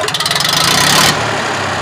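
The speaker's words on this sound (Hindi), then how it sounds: "ये देखो इंजन की आवाज देख लो" Mahindra 265 tractor engine with a replaced UP-type engine and silencer, running steadily and close up: a loud, rhythmic diesel chug that speeds into a continuous drone, then settles to a smooth idle.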